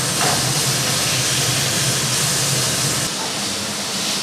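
Young hog plum chutney with salt and turmeric is stirred in a hot pan, giving a loud, dense, unbroken sizzling hiss that stays close and steady throughout.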